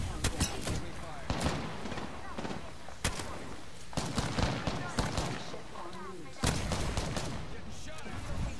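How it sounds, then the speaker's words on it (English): Gunfire in the Apex Legends video game: repeated sharp shot bursts and rattling volleys, loud and close, mixed with other game sounds and scattered voice lines throughout. "Getting shot at."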